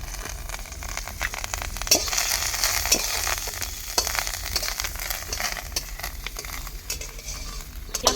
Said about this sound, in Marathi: ह्यात काय कांदा परतून घ्यायचा का तो टाकून घेतली बघा